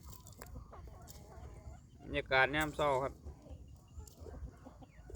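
Chickens cluck and call around a rural backyard home, with a louder, drawn-out call midway over a quieter background. Someone speaks briefly.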